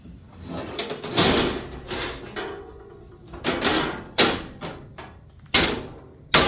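A Rockslide tailgate table on a Jeep is opened and handled, giving a series of metallic clunks, slides and sharp latching thumps spread unevenly over several seconds.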